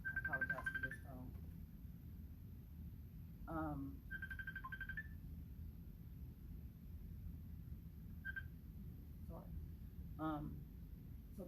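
A telephone rings and beeps intermittently during an indoor talk, with short electronic tone bursts spread across several seconds over a quiet, low background rumble.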